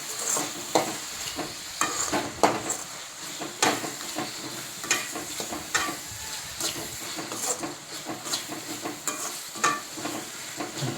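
Salted tomatoes sauté in a pan for masala rice, with rhythmic spatula scrapes and stirring strokes repeating every second or so over a continuous close sizzle.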